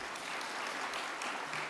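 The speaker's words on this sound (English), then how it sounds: "A huge round of applause for him" Audience applause at an energy conference, a dense, steady wash of clapping from a large crowd, brief and without pauses.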